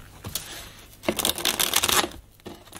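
A deck of cards is shuffled for a card reading in a close, crisp riffle that swells into a dense burst of flapping and then stops.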